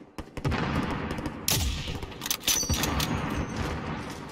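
Bursts of gunfire from Call of Duty: Modern Warfare Warzone crack out in several loud, close volleys over a few seconds, with sharp individual shots and rattling automatic fire alone and without talk.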